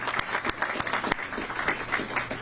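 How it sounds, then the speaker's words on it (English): Scattered audience claps at a press conference, a brief modest round of hand claps with a few louder individual slaps standing out, fairly close and alone without talk. "Y'all can clap for that one."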